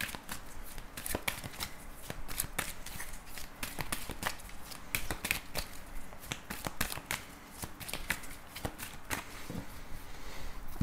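Tarot cards are shuffled up close in rapid, uneven bursts of papery flicks and riffles that continue throughout, with no voices heard.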